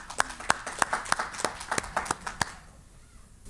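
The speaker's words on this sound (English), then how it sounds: "I think we should actually have a round of applause for you folks." An audience at a session on procedural justice for self-represented litigants applauds, a sparse, lively clapping with distinct, sharp claps that fades out after about two and a half seconds.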